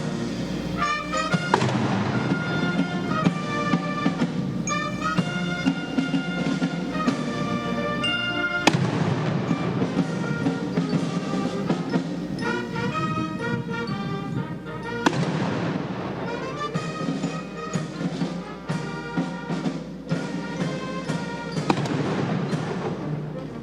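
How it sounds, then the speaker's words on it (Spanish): A 13-cannon salute booms at the National Palace during a Dominican state honors ceremony, heavy reports sounding amid loud continuous band music. "Ya están recibiendo la guardia y los 13 cañonazos en su condición de héroe nacional"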